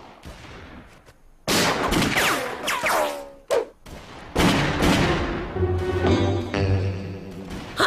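Cartoon gunfire in a Sinhala animated episode: loud, sharp bursts of shots break out after a quiet start, mixed with swooping cartoon sound effects and a few louder thumps.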